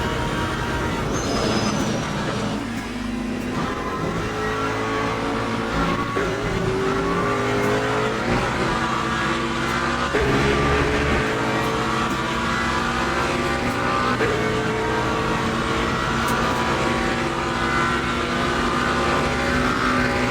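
A Lamborghini race car in the sim racing game Le Mans Ultimate revs hard, its engine note rising and falling through gear changes as it pushes through corners. The sound is loud and continuous, with no one speaking.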